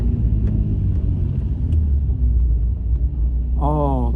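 A Toyota Supra MK4 with its 2JZ engine and airlift suspension drones at a low, steady rumble while driving, loud and close throughout, with a brief rising whine near the end; people talk over it.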